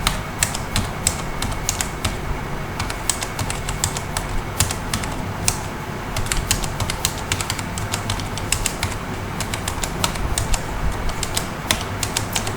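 Keys clatter on a computer keyboard as a number is entered, with rapid, close, irregular clicks over a low steady background hum.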